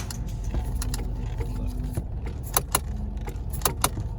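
The stuck turn signal switch in a 1998 Chevy Lumina clicks repeatedly inside the car, sharp close ticks at an uneven pace over a low steady hum.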